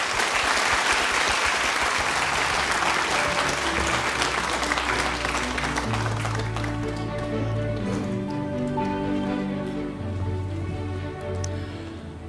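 A large audience at a Korean award ceremony claps in a dense, sustained round of applause that slowly tapers while low music plays underneath.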